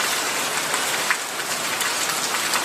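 Heavy rain pours down steadily in a dense, even hiss of drops striking surfaces nearby, continuous and loud with no voices.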